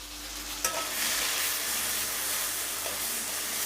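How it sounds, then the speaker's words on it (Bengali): Pointed gourd peel mix with salt and turmeric stirred in a hot pan, a steady loud sizzle and hiss of frying with a faint scrape of the spoon near the start. "দিয়ে এখন আমি নাড়াবো"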